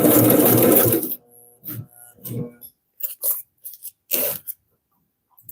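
An industrial Consew CP206RL sewing machine stitching a handbag, one long loud continuous whirring run at the start, then several short stop-start bursts of stitching, close and with no talk.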